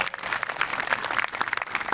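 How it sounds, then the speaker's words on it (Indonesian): A church congregation clapping together during a sermon, a brief burst of dense, fairly close applause with no talking over it. "Tepuk tangan dulu yang terbaik buat Tuhan"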